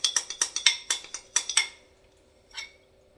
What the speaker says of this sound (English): And I am trying to scrape it as clean as I can get it